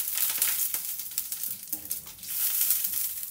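Curry leaves fry in hot oil in a pan for capsicum rice, giving a close, crackling sizzle with irregular pops and faint stirring noises.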